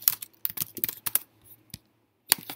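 Fingers type on a computer keyboard up close, a quick run of crisp key clicks in uneven clusters with short gaps, ending in a final flurry of taps.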